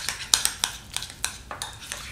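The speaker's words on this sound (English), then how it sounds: "Let's give this a quick stir." A spoon works through chunky guacamole in a bowl, making a quick series of light clicks and scrapes against the bowl at a steady, rhythmic pace, close by.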